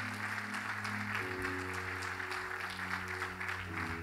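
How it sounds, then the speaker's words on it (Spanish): Church congregation applauding during a morning worship service, a steady even wash of clapping held over a sustained organ or keyboard chord throughout. "Fuerte ese aplauso a Jesús en esta mañana."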